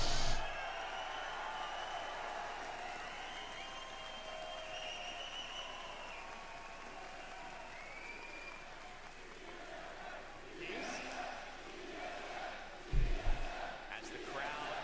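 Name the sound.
crowd cheering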